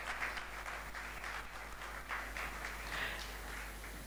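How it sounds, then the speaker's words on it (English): A faint, steady patter of audience applause runs throughout, with no one speaking over it. "A big round of applause."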